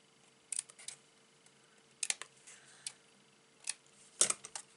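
Scissors trim paper card tags for a double pocket fold card in a series of crisp, close snips. The faint cuts come in small clusters separated by quiet pauses.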